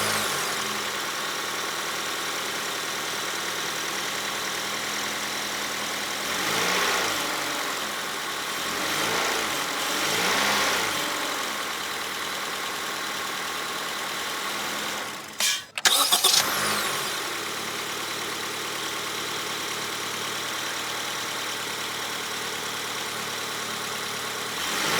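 A 2025 Honda Elevate Black Edition petrol engine idles smoothly and quietly for a long stretch, with a few gentle swells in pitch and a brief loud knock or thump partway through.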